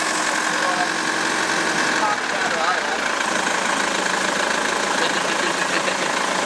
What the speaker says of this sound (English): Sounds like a diesel, doesn't it?